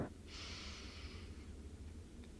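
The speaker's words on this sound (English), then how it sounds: "So inhale through your nose" One slow, gentle inhale drawn in through the nose during a relaxation exercise, close and soft, a hissy airflow lasting about a second before fading into quiet room tone.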